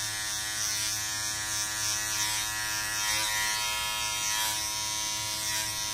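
Electric hair clippers fitted with a number 2 guard run through a haircut, a close, steady, continuous buzzing hum with no pauses and no talk.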